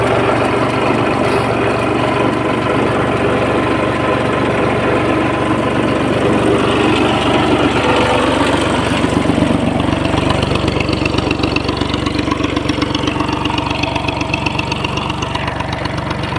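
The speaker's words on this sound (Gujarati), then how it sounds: "ટ્રેક્ટર 22 એચપીનું છે, મિત્સુબિશી શક્તિ 224 1D." A 22 HP Mitsubishi Shakti 224 1D tractor engine runs steadily while driving a water pump, a loud continuous close-up drone with a rapid even chug and no talk.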